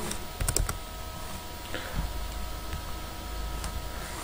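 Computer keyboard typing during an IT tools practical exercise: a quick cluster of crisp key taps near the start, then sparse, lighter keystrokes over a steady background hiss, with no talking.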